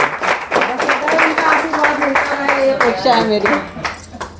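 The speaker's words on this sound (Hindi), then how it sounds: "जोरदार ताली बजाइए" An audience claps along in rhythmic, fairly close applause while a voice keeps talking over it, the clapping steady under the speech before thinning toward the end.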